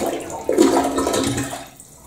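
Water rushing down a toilet clogged with a pee pad, a short gushing surge that swells quickly and then fades out as the bowl drains.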